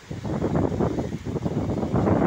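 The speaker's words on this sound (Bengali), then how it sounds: "দমকা হাওয়া দিয়ে ঝড় হচ্ছে" Gusty storm wind, blowing at 70 to 80 km/h in a remote village under heavy clouds and rain, roars steadily as a loud, rumbling rush that buffets the microphone.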